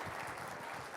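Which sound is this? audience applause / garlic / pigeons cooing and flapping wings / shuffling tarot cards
audience applause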